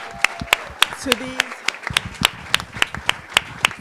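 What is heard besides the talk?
audience applause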